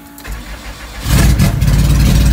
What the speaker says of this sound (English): I'm gonna try a little cold start.